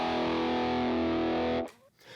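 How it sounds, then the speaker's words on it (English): Heavily distorted rock electric guitar rings out as a loud sustained chord with thick harmonic buzz, then cuts off abruptly near the end, leaving a short quiet tail. "The first pillar of rock and roll guitar has got to be distortion"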